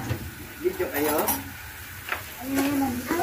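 Large Korean noodles stirred with a fork in a pot, scraping and clinking strokes with a faint sizzle, close, while a voice talks over part of it.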